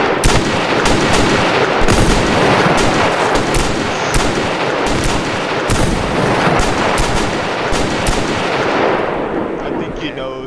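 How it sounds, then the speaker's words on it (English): Continuous loud gunfire in a storm chasing video game, dense overlapping shots and booms with sharp cracks throughout, nearly unbroken. "You can't just shoot people for no reason."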